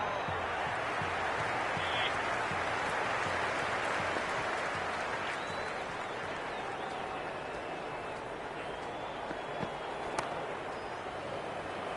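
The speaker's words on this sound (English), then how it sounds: "There's a buzz, a real buzz coming from the stands" A cricket stadium crowd keeps up a broad, continuous roar and buzz at a T20 World Cup match between India and South Africa, steady and moderately distant, with a commentator talking over it.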